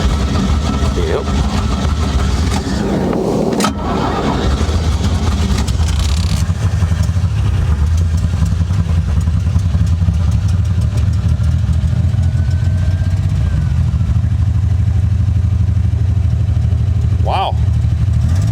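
A 1969 Spartan boat with a 155 hp electric-shift engine, running on its carburetor after 25 years idle, revs up loudly under throttle and holds a deep, steady roar, with a short voice heard near the start.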